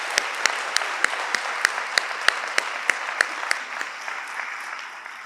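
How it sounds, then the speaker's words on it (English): Audience applauding at a police academy graduation ceremony, a dense steady round of clapping with distinct sharp claps standing out, fading slightly toward the end. "Let's all give them one more round of applause."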